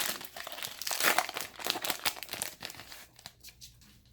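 A Final Fantasy TCG Opus IV booster pack being torn open, with close crinkling foil wrapper and a sharp ripping tear, busy rustling that fades into quieter crinkles at the end.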